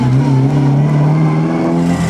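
A vintage Lancia Aurelia with a V6 engine drives during the Mille Miglia road race, its engine giving a loud, close, sustained low drone with a slowly rising then steady pitch over about two seconds, no talking.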